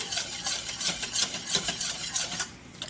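A spoon stirs dry ingredients into warm peanut butter pie filling in a pot, giving rhythmic scraping strokes that repeat steadily, close and fairly loud, then fade at the end.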